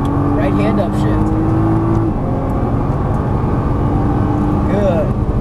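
Nissan GT-R or Ferrari 458 engine accelerating on a racetrack, a loud steady engine drone with a rising tone from inside the car, while a voice speaks throughout.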